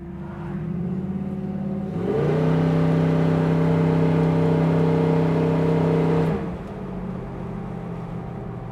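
A 1969 Chevrolet Camaro with a 396 V8 accelerates hard while driving, its engine note rising into a loud, steady roar that holds for several seconds before easing off, with no talking.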